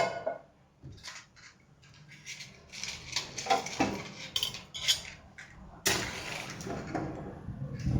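A metal frying pan set onto a gas stove in a home kitchen for egg masala gravy, with scattered clatters and clinks of pans and utensils, one sharp knock near the end, and faint background noise.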